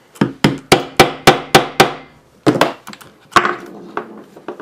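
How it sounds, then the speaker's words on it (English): A plastic hammer strikes a hollow rivet tool to set rivets in a costume belt, seven evenly spaced sharp knocks, then a pause and a few more irregular blows, loud and close. "and a plastic hammer"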